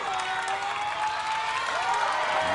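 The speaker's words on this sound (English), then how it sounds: "And this crowd is chanting Sergio." A Las Vegas finals crowd at an American Ninja Warrior event cheering and chanting for a competitor named Sergio, a continuous roar of voices with applause, fairly loud and unbroken.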